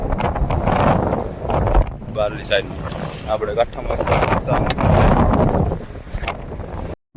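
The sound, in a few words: wind blowing on a fishing boat at sea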